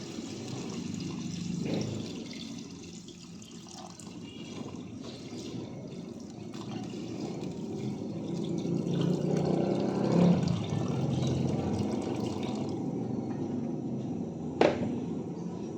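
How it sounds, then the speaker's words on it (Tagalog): Water pours steadily into a pot of simmering chicken tinola, a continuous splashing rush lasting about fifteen seconds with a small clink near the end and no talking. "Lalagyan na natin siya ng tubig"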